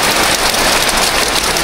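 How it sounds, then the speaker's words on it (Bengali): Heavy rain pours down in a dense, loud and unbroken roar of drops hitting surfaces, filling the whole short stretch. "আর যে বৃষ্টি"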